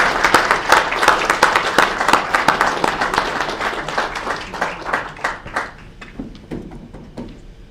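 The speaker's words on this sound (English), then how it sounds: "let's give a round of applause for all of our graduates this term" Applause for graduates at a university recognition ceremony: lively group clapping at first that thins out gradually into a few sparse, distinct claps near the end.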